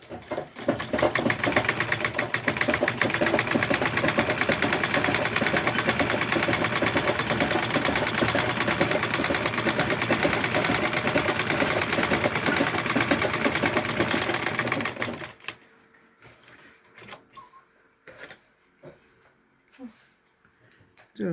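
A sewing machine stitches fabric for a Senegalese zarah cap, a loud continuous mechanical whir with a steady rapid rhythm that runs for about fifteen seconds, then stops, leaving faint clicks and handling noises.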